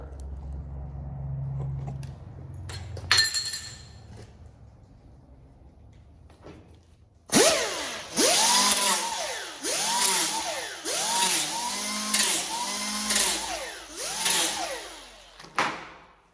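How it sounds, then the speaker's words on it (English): A die grinder whines in repeated rising-and-falling bursts as it cleans up metal around the gas filler hole on a Chevy C-10, preceded by quieter shop clatter and clunks, then steady grinding passes close by. "I'm gonna clean this up real quick with the die grinder"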